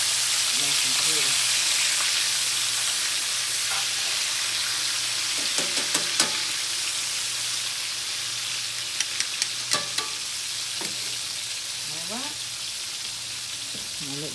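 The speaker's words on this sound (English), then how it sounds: "I'll let this continue to fry" Buttermilk-battered pork chops fry in hot oil with a loud, steady, bright sizzle, joined by a few light clinks and taps of a utensil, close up, with no talk.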